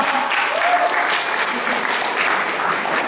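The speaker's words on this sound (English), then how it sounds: "Give a round of these guys, a round of applause" A live audience at a brony convention Q&A panel claps steadily and loudly throughout, with a continuous dense patter of hands and faint crowd noise.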